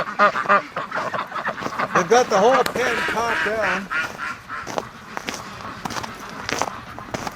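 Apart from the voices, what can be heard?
ducks quacking in a pen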